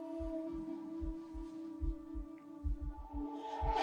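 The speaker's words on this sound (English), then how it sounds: "The heartbeat." A slow, deep heartbeat thuds in a film scene, irregular double and triple beats under a sustained low droning tone, with a rising hiss near the end.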